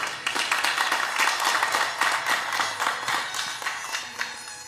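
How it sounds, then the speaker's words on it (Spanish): Dense, steady applause from a crowd at a 2021 prize-raffle award ceremony for a diocesan seminary in Tacámbaro, filling the whole moment loudly with no voices. "Un fuerte aplauso para Albertano y Javier Pérez."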